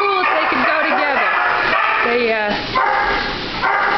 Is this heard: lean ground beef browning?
no